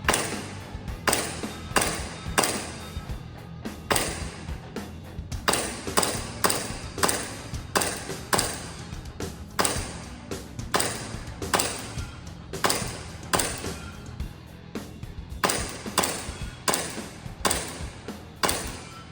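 A gas airsoft gun fired at cardboard and steel targets, a long run of sharp, separate shots with some ringing metallic hits, fired in quick bursts with short gaps, loud and close, with no talk.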